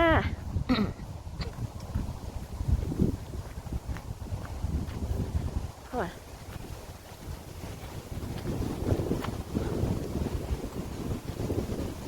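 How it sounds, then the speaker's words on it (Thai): Strong gusts buffet the microphone on a countryside forest walk near a village, a loud rumbling wind roar that swells and drops throughout, with brief faint voices in the background. "โอ้ยลม"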